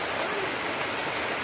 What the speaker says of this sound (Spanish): Ahí cómo se mira la lluvia